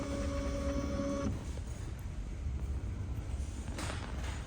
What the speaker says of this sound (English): Then the carriage go to left and the rear go to front. Then stop. The cap station moving up.